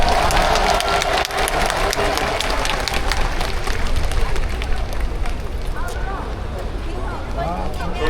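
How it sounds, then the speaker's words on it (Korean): Large outdoor crowd at a presidential campaign launch rally in a city plaza applauds and cheers continuously, a dense steady wash of clapping with voices mixed in throughout. "큰 박수 부탁드립니다"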